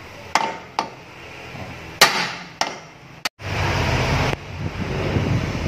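A hammer strikes repeatedly at a Kia Picanto transmission support during a clutch replacement, giving about six sharp, loud metallic blows at uneven intervals, with one sustained rushing noise near the end.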